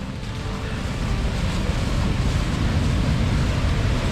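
Rushing water roars steadily about 100 metres from a waterfall toward the Vanhankaupunginlahti bay, a loud broad wash that swells slightly and is mixed with wind buffeting the microphone.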